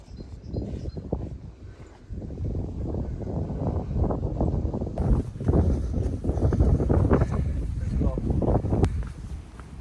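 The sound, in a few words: wind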